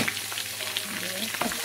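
Chopped onion hits hot oil already fragrant with bay leaves, cinnamon and cardamom, giving a steady close sizzle with faint stirring scrapes throughout and no voices.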